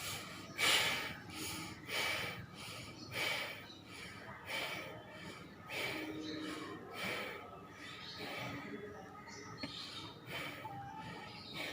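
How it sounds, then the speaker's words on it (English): Slow breaths drawn in and pushed out during a seated yoga pose, a series of soft, airy swells repeating at a calm, steady rhythm close to the microphone. "Then simply breathe in and breathe out."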